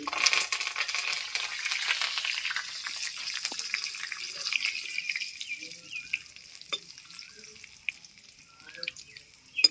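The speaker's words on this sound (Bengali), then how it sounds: "এই কারি পাতাটাও আমি তেলে একটু ভেজে নেব।" Curry leaves dropped into hot oil for a crispy fried chira snack crackle and sizzle loudly at first, then settle into a quieter, sputtering fry over about ten seconds.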